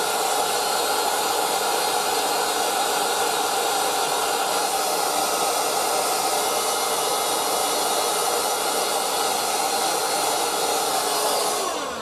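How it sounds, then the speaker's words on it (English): Heat gun blowing steadily while finishing a short-scale bass guitar body, a loud, continuous broadband whoosh with a constant airflow roar that holds for the whole stretch and cuts off at the very end. "if I change the angle of attack with the heat gun, it'll spread it"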